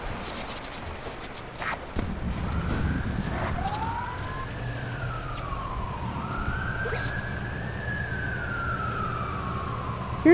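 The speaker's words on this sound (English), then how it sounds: "if you want to turn off that annoying siren, just press down on the left stick" Police car siren in the video game LEGO City Undercover, a wailing tone rising and falling steadily over ongoing traffic and engine noise, loud and continuous throughout.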